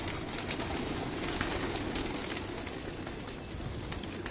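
Young pigeons coo softly and repeatedly in a loft in Lahore, their low calls close and steady over a faint background.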